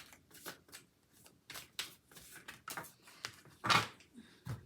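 Oracle cards are shuffled and pulled by hand, giving a series of soft, close riffling swishes and slides, irregularly spaced, with one louder flurry near the end.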